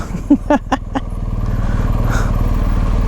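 BMW 1250 GS motorcycle riding on the road, with a few sharp revving bursts and clunks near the start, then a steady loud engine drone and wind rumble.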